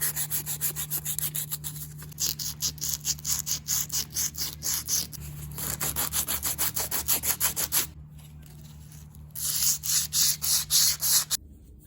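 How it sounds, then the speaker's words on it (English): Epoxy is hand sanded off a forged saber-type knife with rhythmic back-and-forth rubbing strokes, close and steady, pausing briefly twice before resuming. "I remove the epoxy using an 80 grit belt, and I hand sand the rest to an 800 grit."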